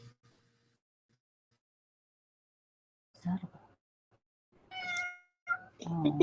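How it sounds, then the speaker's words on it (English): Cats meow a few times in short bursts after a long stretch of near silence, one cry rising clearly and a nearer, louder sound closing the stretch, with faint voices around. "Everybody goes silent to listen to the cats."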